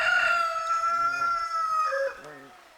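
Backyard coop chickens cluck and squawk near nest boxes, with a rooster-like crow and sustained calls ringing out loudly before fading into softer clucks.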